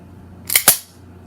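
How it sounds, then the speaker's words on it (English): A sharp metallic snap of a CZ 75 SP-01 9mm pistol hammer falling in dry fire, heard as two quick clicks close together, crisp and near in a quiet room. "As soon as you start pulling, hammer comes back, bang"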